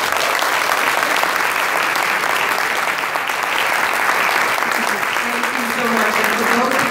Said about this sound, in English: But can we give Monica another round of applause?